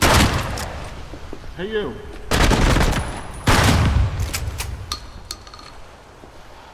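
Loud shotgun and sniper blasts ring out in Project Silverfish, several sharp booming shots a second or so apart, each trailing into a decaying echo, with a brief spoken line near the start.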